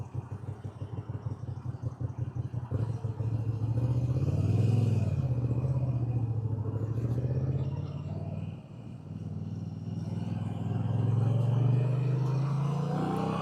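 A Moto Guzzi V7 Sport engine thuds in rapid low pulses at first, then hums steadily at speed along a motorway, rising and dipping with gear changes and throttle.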